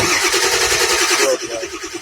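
A Ford F-350 diesel truck with weak injectors and worn glow plugs starts cold on a freezing morning, its engine clattering loudly and roughly before settling into a lower, uneven idle.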